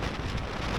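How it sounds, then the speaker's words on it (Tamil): Heavy monsoon rain on a ride through the Western Ghats pours as a dense, continuous roar of drops with low rumbling underneath, loud and steady without pause. "ஆனால் ஒரு பக்கம் பயங்கரமாக மழை."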